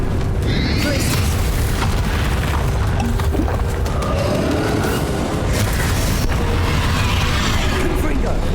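Spell explosions from the Hogwarts Legacy video game boom in a dense, continuous barrage of blasts and crashes, loud throughout with a busy rumbling backdrop and possible voice sounds mixed in.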